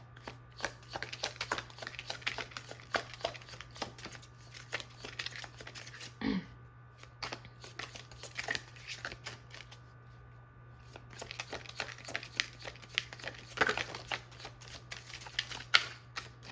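Someone shuffles a Love and Separations oracle card deck, producing quiet, rapid riffling bursts that repeat in short runs over a steady low hum, with brief pauses between them.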